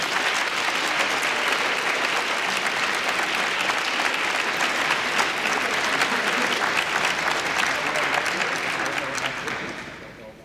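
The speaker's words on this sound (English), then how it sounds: "One more round of applause for our All Academic Award winners." Sustained, dense applause from an audience at a high school awards ceremony for All-Academic Award winners, steady and loud throughout before tapering off at the very end.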